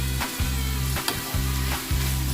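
Beef kra pao with Thai basil and eggplant being stir-fried in a hot pan: a steady loud sizzle, broken every half second or so by quick scraping stirs, with no talking.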